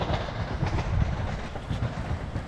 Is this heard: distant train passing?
yes